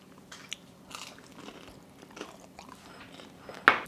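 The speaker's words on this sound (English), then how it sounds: "Every bite has a crunch" Crunchy porcupine chicken being bitten into: soft, close chewing noises give way to one sharp, loud crunch near the end, with no talking.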